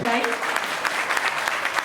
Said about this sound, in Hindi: भाई तालियां बड़ी हल्की हैं